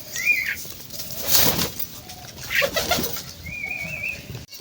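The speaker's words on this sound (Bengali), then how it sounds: "আর ওই যে আমাদের নরকিং কবুতর" A king pigeon coos softly nearby amid brief bursts of wing flapping, with thin bird whistles in the background and no talking.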